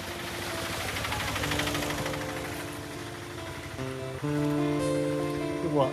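An autorickshaw engine hums and revs while driving through floodwater during heavy rain, with water rushing and splashing around it, a steady droning tone that swells louder toward the end, and a voice faintly audible.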